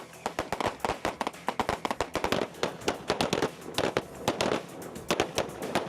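Gunshots ring out at a shooting range at night, a rapid, irregular string of sharp, loud pops from several shooters, dozens of cracks overlapping in quick succession, with no talk.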